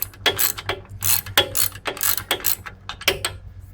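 Rapid clicking of a 20- to 30-year-old hand ratchet loosening a hydraulic hose fitting on a John Deere 260 backhoe, close and crisp, in quick uneven bursts of metallic ticks.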